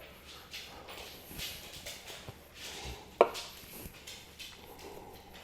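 A Japanese single-bevel slicing knife, yanagiba or sujihiki, draws through a piece of meat trimming off silver skin, giving soft close scraping strokes with a few light taps and one sharp knock on the board, no talk.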